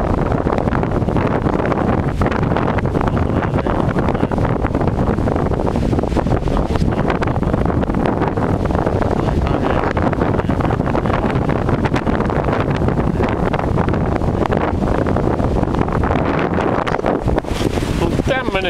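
Strong, cold wind buffets the microphone near the shore of Lammassaari, producing a loud, continuous roaring rumble that persists for the whole stretch without pause.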